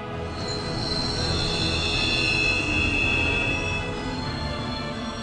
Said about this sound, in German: ich glaube, der Zug ist entgleist.